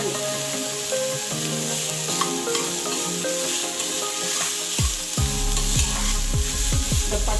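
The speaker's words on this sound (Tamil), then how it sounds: "இதை வதக்குறேன்" Green chilies, curry leaves and coriander sauté in a pan for ragi roti, giving a steady, close sizzle with stirring scrapes throughout and a few sharper clinks of the spoon toward the end.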